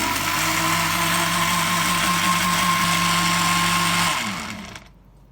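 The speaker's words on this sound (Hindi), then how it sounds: "अब इसे अच्छे से ब्लेंड कर लेंगे" Electric blender whirring steadily while blending avocado with milk and sugar into a shake, a loud continuous motor drone that runs for about four seconds before winding down and stopping.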